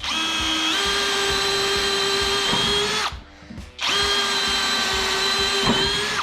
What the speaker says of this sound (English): first we're gonna test just a regular drill bit on some wood here.